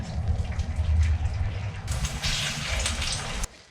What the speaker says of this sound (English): Give it a little bit of water to cook with.